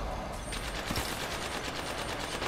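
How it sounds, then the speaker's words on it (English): Gunfire in an Apex Legends match, a steady run of rapid shots sounding fairly close and continuous throughout the short stretch, with no voices over it. "I am taking fire, friend"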